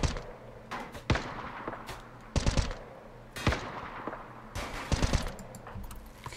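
Gunfire crackles in the colony video game Rimworld during a base assault, with bursts of rapid shots and sharp single reports overlapping in a dense, continuous barrage.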